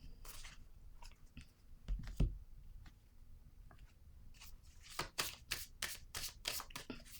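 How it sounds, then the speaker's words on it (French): Tarot cards are drawn and shuffled by hand in a quiet room, with soft rustles and then a quick run of crisp, rapid riffling snaps near the end, close and without talk. "Je vais piger une autre carte."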